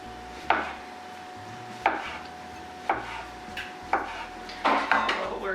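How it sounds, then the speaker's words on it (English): A knife chops mushrooms on a cutting board in sharp, evenly spaced thuds, about five close strikes over a low steady background hum. "Almost done cutting our mushroomies"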